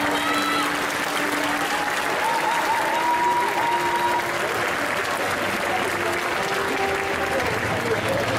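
A crowd applauds steadily and loudly throughout, a dense wash of clapping with a faint tonal sound underneath.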